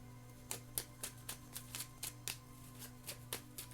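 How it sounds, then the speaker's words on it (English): Tarot cards being shuffled close by, a quiet series of about a dozen crisp riffling snaps at an uneven, quick rhythm, with no talking. "Last shuffle for Taurus here."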